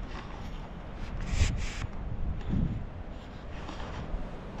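Blustery wind buffets a microphone near Dunluce Castle on the Northern Ireland coast in November, a low rumbling roar with gusts swelling and easing, steady and fairly close, no talking.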